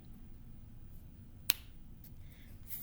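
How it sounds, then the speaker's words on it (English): One sharp finger snap cracks out at close range in a quiet room, a single crisp click standing alone against faint background hiss. "I'm going to snap my fingers."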